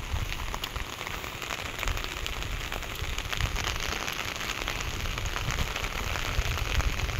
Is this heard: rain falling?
yes